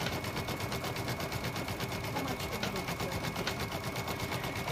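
Embroidery machine stitching a holiday tree design, a fast even rattling needle rhythm running continuously at close range with a faint steady whine.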